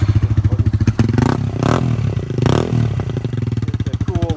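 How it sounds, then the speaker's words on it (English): A Honda Grom pit bike with a carbon-fiber Yoshimura-style wrap exhaust revs hard and close, its engine firing in a rapid buzzing drone that climbs and falls through repeated throttle blips. "I think the Grom has a cool sound with this"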